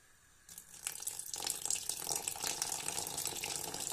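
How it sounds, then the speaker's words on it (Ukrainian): Boiled water pours into a pan of instant noodles and eggs, starting after a brief quiet moment and building into a steady, splashing trickle that continues to the end without any talking. "трішки я добавлю кип'яченої водички"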